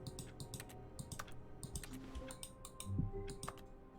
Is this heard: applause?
no